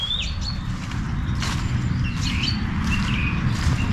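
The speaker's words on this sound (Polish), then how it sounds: "Słyszycie jak pięknie ptaki śpiewają?" Birds chirp and tweet intermittently over a steady low background rumble, fairly faint and a little distant.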